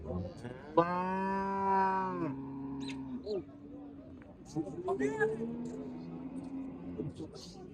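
A cow gives a long, loud moo close by, followed by people talking at a farm.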